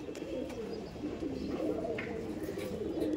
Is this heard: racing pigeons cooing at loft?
yes